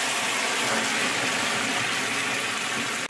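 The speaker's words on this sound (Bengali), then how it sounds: "এবার আমি মাছ ফুলুরি সব কিছু ঢেলে দেবো এর মধ্যে" Hilsa fish fritter batter, seasoned with nigella seeds, poured into hot oil in a pan, producing a loud, continuous hissing sizzle that stays steady until it cuts off abruptly at the end.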